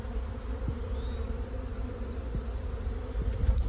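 A dense, steady buzz of many bees fills the air, a continuous low drone close by with no voices.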